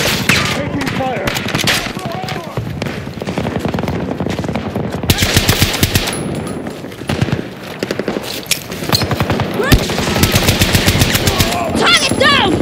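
Rapid automatic gunfire and scattered shots in the shooter game Battlefield 2042, loud and close in sustained bursts with brief pauses, mixed with voices talking over the battle.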